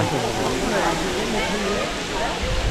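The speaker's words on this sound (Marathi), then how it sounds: "तेव्हा कसं पाणी पडतंय वरतून" Rain-fed water pours down from above at a hilltop temple, a continuous broad rushing wash, steady and fairly close, with faint talk mixed in.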